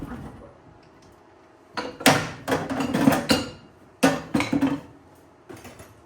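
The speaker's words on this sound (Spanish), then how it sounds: "Este martillo es muy especial, me permite trabajar muy concretamente" Hammer tapping on an aluminium car body panel during bodywork repair, several sharp metallic strikes in two quick bursts close by, separated by a short pause, with no talking.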